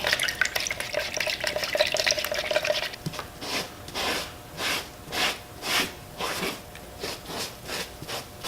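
Burnt umber and black acrylic paint wash being stirred, a steady run of soft rhythmic swishing strokes, about one per second, close by after an earlier stretch of hissy rubbing.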